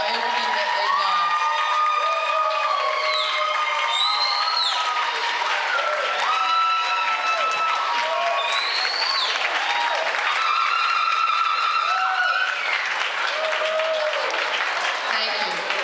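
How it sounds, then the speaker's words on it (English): An audience at a family masquerade ball applauds the team, loud continuous clapping filled with whoops, cheers and excited shouting voices that stay strong the whole time. "Give the team a big, huge round of applause for everything that they've done."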